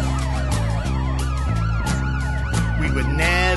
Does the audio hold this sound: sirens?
yes